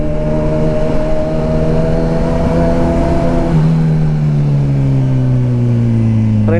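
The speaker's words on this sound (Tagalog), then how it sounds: "Rinig mo yung singaw ng headers." A Kawasaki Ninja 1000 SX motorcycle with exhaust leaking at the headers idles and revs loudly with a steady droning tone, the pitch dropping midway, close up and continuous.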